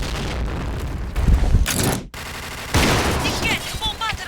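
Gunfire and a grenade blast from the online shooter Point Blank, with dense bursts of shots, a loud boom near the middle and a brief cut to silence before the battle noise resumes, under game voice callouts.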